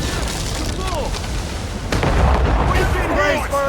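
Naval cannon fire from sailing ships in Assassin's Creed Rogue, booming blasts and rumbling impacts amid battle noise, with shouted voices of crew over the gunfire.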